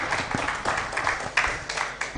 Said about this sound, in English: Please keep clapping for them as they come down the stage.